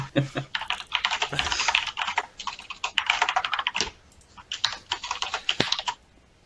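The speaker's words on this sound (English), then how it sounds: "ignore my loud typing" Loud, fast typing on a computer keyboard, a dense patter of sharp clicks in irregular bursts with a brief lull in the middle, close to the mic and alone.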